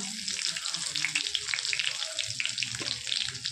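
Cumin seeds and curry leaves sizzle in hot oil in a pan, a steady close crackling hiss with fine popping that runs throughout, and a voice murmurs faintly underneath.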